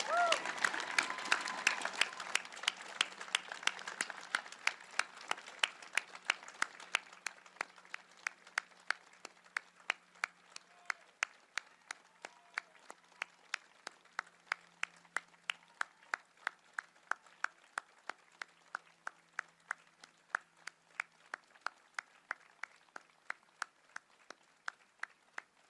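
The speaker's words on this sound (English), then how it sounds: "Please join me in a round of applause for our Second World War veterans and all veterans who are with us here today" An audience at an outdoor Victory in Europe Day anniversary ceremony in Ottawa applauds Second World War veterans, starting as dense clapping and thinning to a slower, steady rhythm of sharp, fairly distant claps that keeps going for a long stretch.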